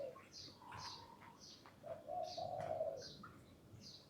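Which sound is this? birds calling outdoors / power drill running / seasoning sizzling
birds calling outdoors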